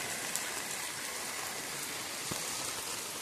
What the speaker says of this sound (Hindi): बारिश अभी खूब जोर हो रहा है, देख सकते हैं, और ज़बरदस्त बारिश है